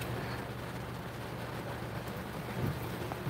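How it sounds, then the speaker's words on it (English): Heavy rain pours steadily around a car heading back from an outing, a dense continuous hiss with a low rumble underneath; no distinct thunder crack stands out. "It's raining too hard."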